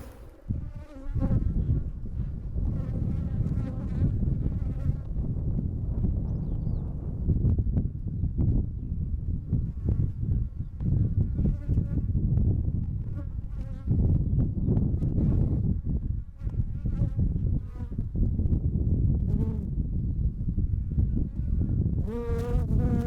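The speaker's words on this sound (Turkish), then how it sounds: "Arı bugün biraz saldırgan" Dense, steady buzzing of many agitated honeybees swarming close around a hive at an apiary in Kayseri, Turkey, a low droning hum that continues throughout with occasional louder passes.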